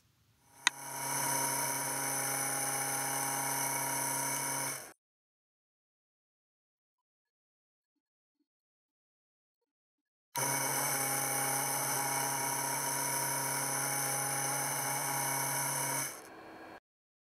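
A 2-phase stepper motor runs on a CVT driver with smooth drive enabled, giving two bursts of steady, close tonal whirring with bright harmonics, each about five seconds long, separated by silence.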